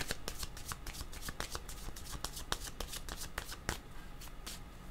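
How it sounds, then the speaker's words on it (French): A deck of playing cards is shuffled by hand close up, a steady run of crisp riffling flicks and snaps continuing for the whole stretch with no talk. "je vais prendre mon jeu de cartes"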